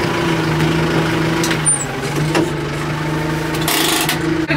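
A four-wheel drive farm vehicle's engine idles with a steady low hum close by, with a faint hiss and a few light knocks on top.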